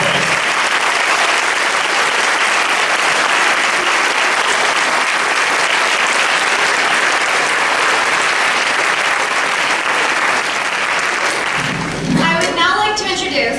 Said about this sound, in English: So can we have a big round of applause for Poston?